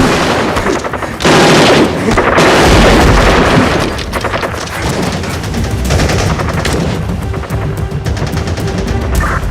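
Sniper and battle gunfire in a war film scene: loud, dense bursts of rapid shots and booming blasts that crowd together near the start, then thin into a continuous rattling barrage.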